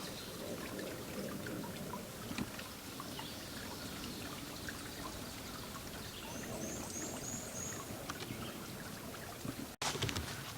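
A very tiny trickling waterfall along an old abandoned road, a steady soft splashing and dribbling of water that runs continuously and evenly, heard up close with no talking.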